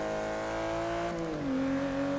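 Engine of a 2012 Aston Martin V12 Zagato in the Forza Motorsport 6 video game, a steady tonal hum that drops in pitch partway through, moderately loud with no talking.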